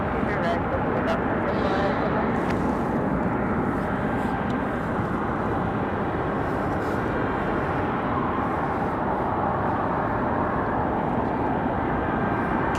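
A Frontier Airlines jet takes off from runway 23 right with a loud, continuous low engine roar that holds steady throughout, while a radio voice talks over it.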